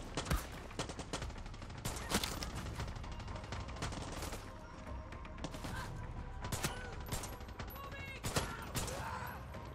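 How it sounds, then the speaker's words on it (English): Gunfire in the Far Cry 6 video game crackles in repeated bursts and single sharp shots, with loud transient cracks scattered across the whole stretch amid mechanical clatter and impacts. "I hear something like a big cannon gun"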